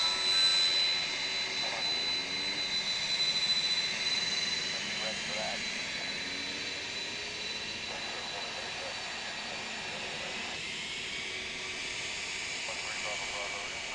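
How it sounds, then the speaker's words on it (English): A Boeing 767 jet taxis into position at an airport, its steady engine whine and roar holding throughout at moderate distance, with faint background voices and ambient airfield noise. "767 as it taxis into place."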